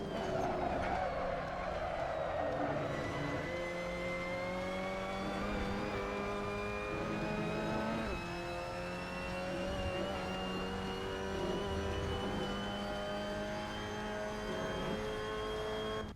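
A Mazda MX-5 Cup race car engine in Assetto Corsa at Pascani Motorpark drones and climbs through rising gear pitches, with shifts and revs changing over a sustained run, no talking.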